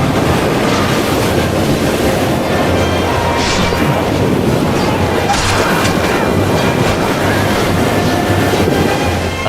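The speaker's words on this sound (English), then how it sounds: "A strong current of water flooded the ford." Rushing flood water of a rising river tide at a ford in Total War: Shogun 2, a loud, continuous broadband roar with a steady low rumble, unbroken across the whole span with no speech.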